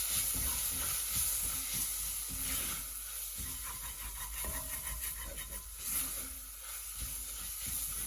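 Ingredients sautéing in a hot pan over a flame, giving a continuous close hiss and sizzle with soft stirring scrapes throughout, no voices.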